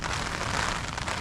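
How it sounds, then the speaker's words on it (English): Heavy rain and strong wind batter a tent during a stormy night on Slieve Carn, a dense, constant hiss and rumble with no let-up. "as you can hear, crazy rain outside, strong wind"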